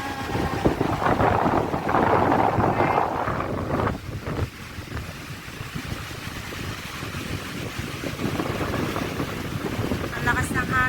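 Strong wind buffets the microphone on a beach, a steady roaring rush with surf beneath it and a voice speaking briefly over the gusts.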